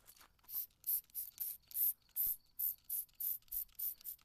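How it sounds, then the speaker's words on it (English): Detailer sprayed onto a new car's paint from a trigger bottle, about a dozen quick hissing spritzes in a steady rhythm, close and fairly soft. "spray on some detailer here."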